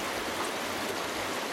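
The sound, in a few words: flowing creek water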